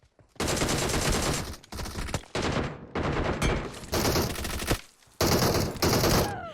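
Rapid bursts of automatic gunfire in a shooter video game, several long loud sustained volleys separated by short pauses, with no talk.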